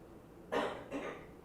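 Two sharp coughs close together, the first louder and the second softer, with quiet around them and no talking.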